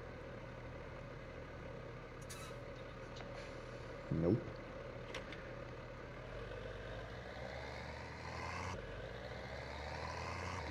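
A tractor engine idling and rumbling steadily in Farming Simulator 2017, a low continuous drone with a brief louder clunk partway through and a short spoken word over it.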